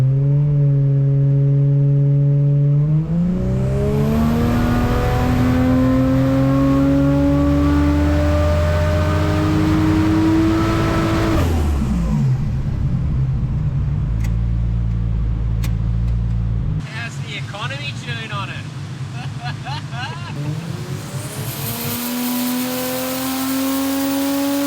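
Barra-powered Ford Crown long roof on a dyno doing a partial-throttle ramp run, engine climbing steadily in pitch and volume, dropping off, then rising again, loud and close with brief background voices.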